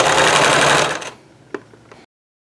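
A sewing machine runs steadily as it stitches fabric for a face mask, then stops, leaving a few soft clicks and handling noises in a quiet room.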